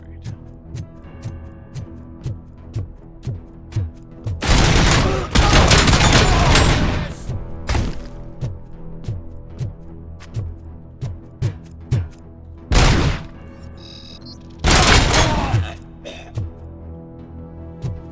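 Gunfire from guns in the Robocop video game: long loud bursts of shots around the middle of the sequence and a couple of shorter volleys later, over steady game music with regular beats.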